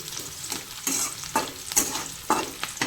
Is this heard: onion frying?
yes